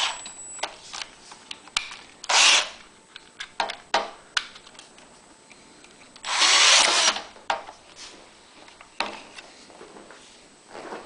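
Short bursts of power drilling, two of them longer and louder, broken up by clicks and handling knocks in a quiet room.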